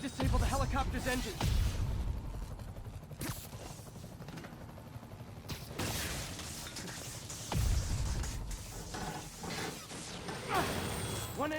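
Helicopter engine being wrecked in a Spider-Man video game, loud metallic bangs, crashes and grinding mechanical impacts repeating over a rotor-like churn, with voices talking between hits.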